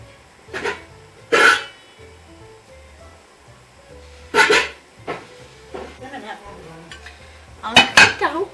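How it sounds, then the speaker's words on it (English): A saucepan is pulled out in a home kitchen, with several sharp metallic clanks and clatters of pots and pans spaced apart and quieter rustling and knocking between them. "So, let's get a saucepan."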